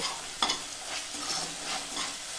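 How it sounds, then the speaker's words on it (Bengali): Ginger and green chili paste fries in hot oil, a close, even sizzling hiss with light stirring scrapes and one sharp clack near the start, no talking. "এবার এর মধ্যে আদা ও কাঁচা লঙ্কার পেস্ট দিয়ে দেব। আদার কাঁচা গন্ধটা যাওয়া পর্যন্ত একটু ভেজে নেব।"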